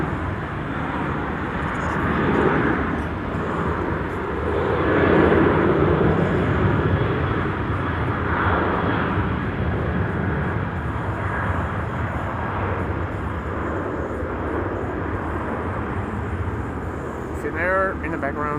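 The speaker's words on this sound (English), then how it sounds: "737-700 has begun to roll" A KLM Boeing 737-700 starting its takeoff roll at Amsterdam Schiphol, a sustained jet roar that surges and fades gradually, with someone talking over it.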